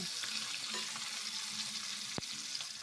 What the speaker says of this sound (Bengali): এখন মাছের মাথাগুলো এইভাবে উল্টে পাল্টে দু পিটি ভেজে নেব।